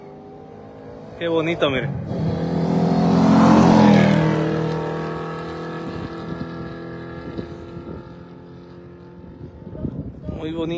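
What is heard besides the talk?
red Ferrari race car passing during Carrera Panamericana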